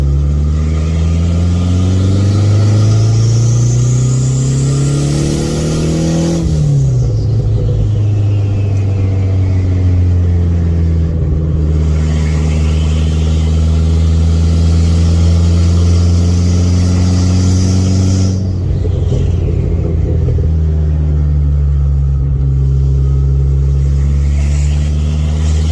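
A 2004 Dodge Neon SRT4 drives with a loud, close engine drone, climbing through rising revs, dropping at two gear changes, then pulling up again, with steady road rumble beneath and no talking.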